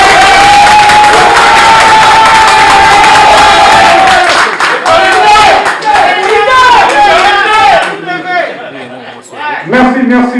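A crowd at a music press conference fills the air with loud, dense applause and cheering, which thins and fades toward the end.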